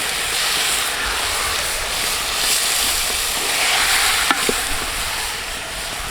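Fish pieces sizzle loudly as they are stirred in a pan for Kerala-style fish molee. A steady, dense frying hiss is broken near the end by a couple of quick utensil clinks.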